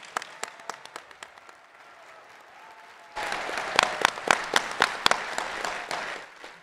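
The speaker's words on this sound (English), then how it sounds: "please give a round of applause for AC Stewart." Audience at the Midwest FurFest 2022 opening ceremony claps, sparse scattered claps at first then swelling into fuller applause from a large crowd in a hall, moderately distant.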